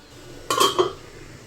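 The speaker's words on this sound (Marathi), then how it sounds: "भाजीची कढई ह्या साईडला ठेवते." A metal kadhai and pot are set down on a home kitchen stove, a short pair of bright clanks close by in an otherwise quiet room.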